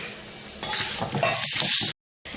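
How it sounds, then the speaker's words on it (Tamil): Roasted gram, coriander and coconut dry-roasting in a pan for Chettinad brinjal, with a dense close crackle and rustle of stirring that swells partway through and drops out briefly near the end. "ரொம்ப வறுக்கணும்னு இல்லை லைட்டாக கொஞ்சம் வாசம் வர்ற வரையும் வறுத்துக்கலாம்"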